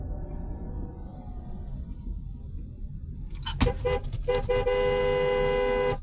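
A car horn blares from a vehicle on the road, starting after a few seconds of engine and road noise and then sounding in repeated loud honks that merge into a sustained blast.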